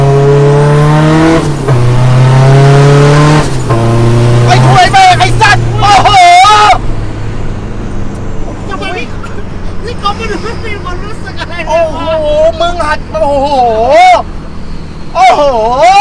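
A modified racing car roars past at speed, its engine loud and rising in pitch, while the passengers inside shout and yell excitedly over the noise.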